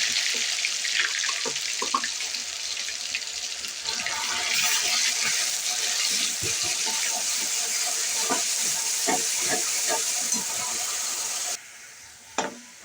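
Onion paste sizzles and fries in hot oil in a pan for korma, with mustard seeds already in, a steady loud crackling hiss with occasional stirring clicks, dropping briefly quieter near the end.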